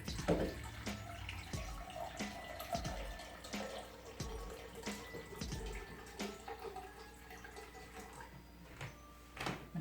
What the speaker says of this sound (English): I'm going to get 2 cups of filtered water.